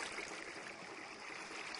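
Flowing water in the Minecraft video game, a faint, soft continuous trickling stream with no talk over it.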